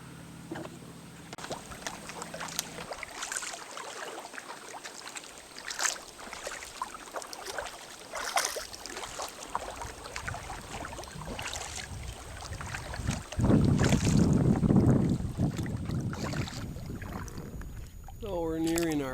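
A canoe paddled across a lake in Quetico Park gives soft, rhythmic paddle strokes and water swishes. Wind noise and occasional low rumbles sit underneath, rising near the end.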